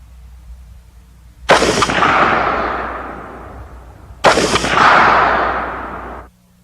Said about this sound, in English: This is the target I just shot twice with a 223 through the brush.